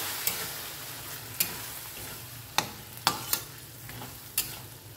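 Chickpeas frying in a spiced masala as a utensil stirs them, a steady low sizzle broken by about six sharp scraping clicks at irregular intervals, close and moderately loud.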